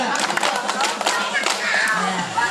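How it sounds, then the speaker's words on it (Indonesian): A group claps in rhythm for the Tepuk Indonesia clapping game, sharp close hand claps landing in quick patterned bursts, with voices chanting and talking along. "Tepuk Indonesia"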